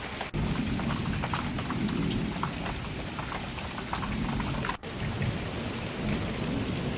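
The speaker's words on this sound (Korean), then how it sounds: "장대비가 주룩주룩 쏟아지고 하늘이 번개가 치며" Heavy rain pours down steadily at dawn, heard through an open balcony window, with a deep rumble of thunder underneath, a continuous dense roar without voices.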